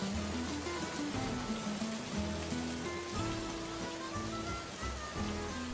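Steady rain pouring down on a surface, a dense continuous hiss with no voices, loud and close throughout.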